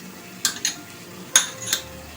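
A spoon clinks and scrapes against a pan while paneer gravy thickened with almond paste is stirred and fried, four short metallic taps standing out over a faint quiet background.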